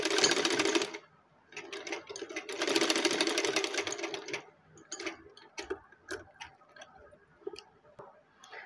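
A sewing machine stitches gota lace onto the chest and neckline of a frock, running in two long steady bursts followed by shorter start-stop runs of stitching, close and clear with no talk.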